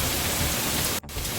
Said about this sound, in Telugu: భయంకర వర్షాలు చాలా భయంకరంగా పడుతున్నాయి